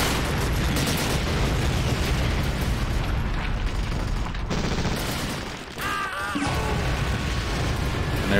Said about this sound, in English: And there's the artillery on the Pack 40